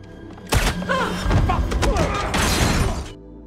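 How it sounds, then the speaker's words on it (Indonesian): A burst of rapid gunfire mixed with shattering and heavy thuds in an action film scene, loud and chaotic for about two and a half seconds after a quiet start. "Mendengar suara tembakan"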